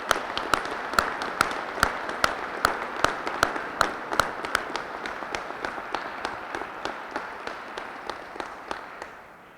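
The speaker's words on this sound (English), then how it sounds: "let's give a round of applause to those who supported us and made our service possible" A Veterans Day ceremony audience applauding military families, opening with sharp distinct claps from nearby hands over a softer crowd patter that gradually fades out.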